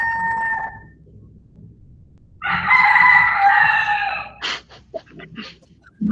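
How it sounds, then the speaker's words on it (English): A rooster crows loudly and close by in one long call, followed by a few short clucks, after a brief bird call at the start. "there's a rooster"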